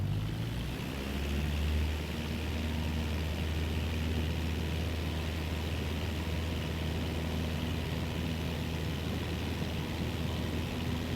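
Steady engine drone of a light airplane in Microsoft Flight Simulator 2024 rolling for takeoff on a runway, a constant loud hum with low rumble that holds evenly throughout, no voices.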